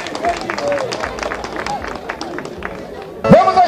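Audience clapping and cheering at the Gravatá violeiros festival, a crowd applauding a duo of repentistas, a steady mid-distance wash of claps under hall hubbub that swells louder near the end.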